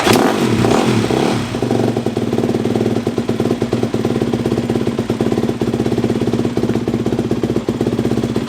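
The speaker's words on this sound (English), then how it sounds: "This thing's on, it turned on, and it runs" A Yamaha YZ250F dirt bike engine fires up and settles into a steady, loud idle, with a rapid rhythmic thumping that carries on evenly and close by for several seconds.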